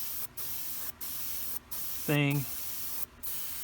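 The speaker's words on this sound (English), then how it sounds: "as spraying the primer, except I'll go with lighter coats and go over it twice" An aerosol can sprays primer onto a plastic Tamiya 2½-ton 6x6 cargo truck model in a steady, close, loud hiss broken by brief pauses. Someone speaks a word partway through.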